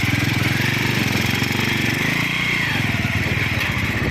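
A service motorcycle's engine runs steadily on a muddy creek-crossed shortcut trail near Mapanuepe Lake, a close, continuous throbbing drone with no talk over it.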